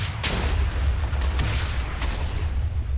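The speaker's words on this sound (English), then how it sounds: "I can just spam rockets at these vehicles" Rockets fired at vehicles in the Minecraft Halocraft mod make repeated game booms and blasts in quick succession, loud and close over a deep rumbling bed, with no talking.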